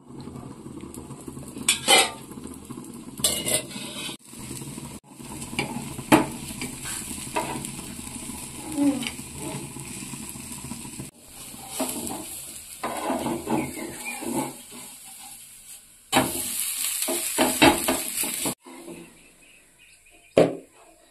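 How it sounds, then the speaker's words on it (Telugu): Ragi dosa batter hitting a hot pan sizzles steadily across the clip, with occasional scraping and clattering of a utensil against the pan and a louder burst of frying near the end; no one speaks. "పెనం వేడెక్కింది ఫ్రెండ్స్. ఇంకా మనం దోశ పోసుకుందాం."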